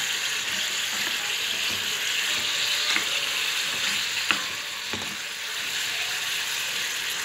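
Beef pieces frying with onion in a pan, a steady bright sizzle and crackle with a few sharp clinks of a utensil, close and alone without talk.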